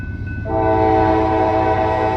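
A freight train approaching near milepost 18 in Sharonville, Ohio, its horn sounding a loud, sustained multi-tone blast that starts about half a second in and holds steady over the rumble of the oncoming train.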